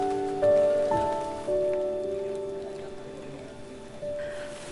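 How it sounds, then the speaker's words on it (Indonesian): Rain falls steadily at a campsite clearing at 1,774 m on a hiking trail up Mount Cikuray via Cintanagara, a soft, even patter close by, with faint tonal hums running beneath it. "Nampaknya hujan turun."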